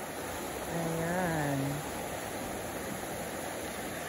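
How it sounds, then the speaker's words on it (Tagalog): Running water of a river flowing steadily in the background, a constant broadband rush throughout, with a person speaking briefly over it. "katabi lang nito ay ang suba or ang tinatawag natin na running water"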